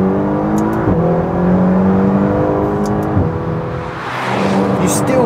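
McLaren supercar engine while driving, a steady, fairly loud drone with smooth gear-shift dips and rises as it pulls along, heard alone without talk.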